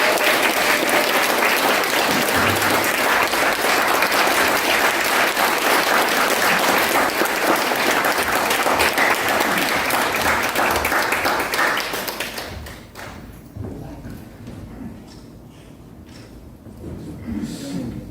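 Loud, dense applause from an audience at a lecture-style academy event fills the first twelve seconds, then drops away abruptly, leaving a quiet room with faint low murmuring.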